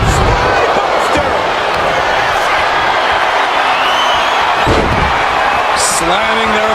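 A wrestler is slammed to the mat with a spinebuster in WWE 2K25: a sharp body-slam thud lands over steady arena crowd noise and constant excited commentary.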